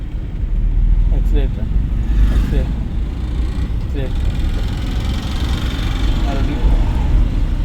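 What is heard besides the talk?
car driving off as accelerator is pressed lightly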